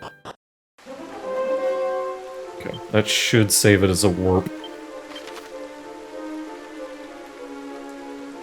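Steady rainfall hiss in Dragon Quest III HD-2D Remake runs throughout, layered with sustained game music, while a player talks briefly over the middle.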